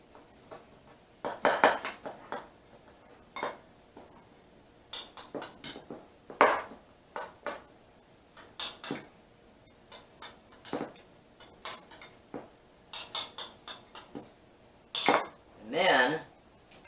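Dry steak rub spices are mixed in a container, with a steady run of close, light clinks and ticks from a utensil against the bowl, ending in a couple of longer rattling scrapes.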